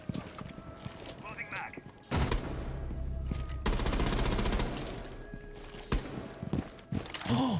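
Rapid bursts of automatic gunfire from a weapon in the video game Rainbow Six Siege, loud and close, in two sustained volleys with short gaps and a few sharp single shots near the end.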